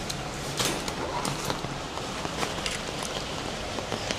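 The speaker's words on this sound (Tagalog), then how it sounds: "Grabe, umuulan ngayon sa labas." Steady rain falls outdoors in Hong Kong, a constant hiss with scattered louder drops and patters hitting nearby surfaces, no one speaking.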